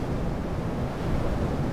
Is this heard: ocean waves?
yes